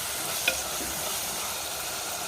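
Tomato pieces cook down in a clay pot, making a steady, even hiss of simmering and sizzling with one faint stirring tap near the start.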